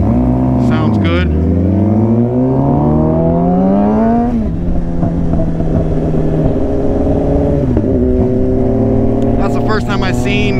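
Kawasaki ZX-10R sport motorcycle with a titanium aero exhaust at a car show, revving up and down in several loud close blips with rising and falling engine pitch, people talking nearby.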